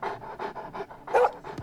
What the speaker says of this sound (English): One mean dog.